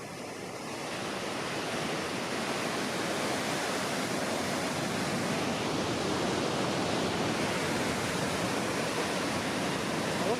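Water shooting out from high up and plunging down a waterfall over dark basalt rock, a powerful steady roar that swells in the first seconds and then holds loud and continuous, with no talking.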